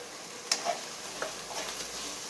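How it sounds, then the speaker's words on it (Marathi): Roasted moth beans being sautéed in masala for misal, a faint low sizzle with a few light scrapes and taps of a spoon stirring in the pan. "आता याच्यामध्ये मी मटकी टाकून घेणार आहे भाजलेले भाजलेली मटकी आहे ना याच्यामध्ये टाकून घ्यायची"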